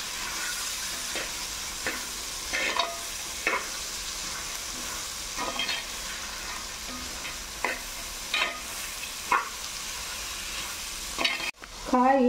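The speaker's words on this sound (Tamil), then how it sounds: "இந்த நெய்யிலேயே அப்படியே வறுத்து வேக வச்சுக்கலாம்." Carrots, green peas and beans frying in ghee in a pan, a steady soft sizzle broken by repeated scraping stirs at irregular intervals, close and moderately quiet, ending with a brief clatter.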